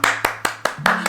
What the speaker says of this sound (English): Let me see that clap.